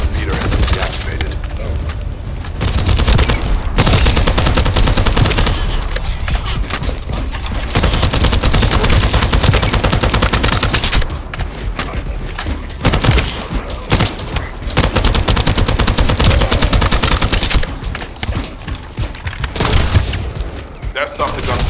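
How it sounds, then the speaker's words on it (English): Gunfire in the video game The First Descendant, loud dense bursts of automatic weapon fire and booming impacts in rapid sequences with short lulls between volleys. "That stopped the gunfire."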